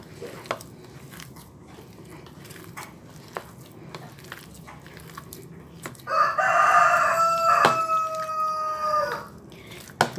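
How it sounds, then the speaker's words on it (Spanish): A rooster crows once, fairly near and clear, breaking through a quieter kitchen scene with faint tapping and handling noises while quesadilla dough is kneaded. "Ya oyeron el gallito"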